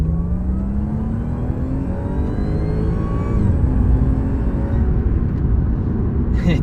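A 2012 Audi S4 fitted with an APR open air intake accelerating in regular drive, heard from inside as a loud, steady engine drone and whir with rising tones that climb through the gears, no talk.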